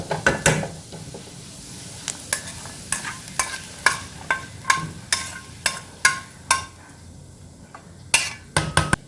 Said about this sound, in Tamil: மாவு நல்லா மிக்ஸ் பண்ணிக்கோங்க